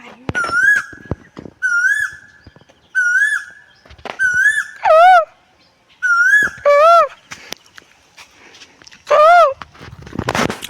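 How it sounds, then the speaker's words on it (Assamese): An Asian koel calls from overhead in green rural countryside, giving about eight clear rising whistled notes in an irregular series, loud and close, with faint rustling and footsteps in the gaps. "ওপৰত কুলি মাৰি দি আছে"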